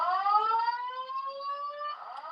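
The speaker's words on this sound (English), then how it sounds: "Yep, this is the final alarm." A building fire alarm system sounds during a test, a steady multi-tone electronic alarm tone holding continuously, loud and close, with no voices.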